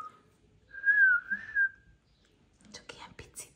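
A person whistles one short wavering note followed by a longer sliding tone, indoors with puppies around, then soft whispery speech and rustling follow.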